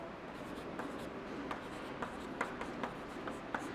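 Pen writing math by hand on paper, a steady soft scratching with small taps of strokes, close and quiet, no talking.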